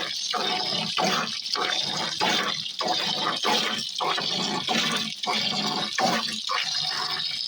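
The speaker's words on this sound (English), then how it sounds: "See, once you stop pumping, there's no more water." Water from a hand-pumped off-grid rainwater shower sprays in rhythmic surges, each pump stroke pushing a hissing burst with brief dips between, steady and close.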